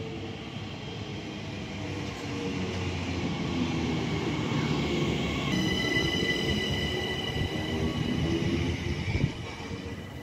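An Elizabeth line train runs at Langley station with a steady low rumble of wheels and rail, growing slightly louder over ten seconds, with faint whining tones above and a brief knock near the end.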